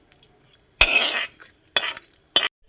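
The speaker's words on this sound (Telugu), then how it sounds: "కొంచెం చిటపట అన్నాక కరివేపాకు వేసుకున్నాం" Curry leaves and dried chillies hit hot tempering oil in a kitchen, bursting into two loud sizzling crackles followed by a shorter third spurt, with quiet pauses between.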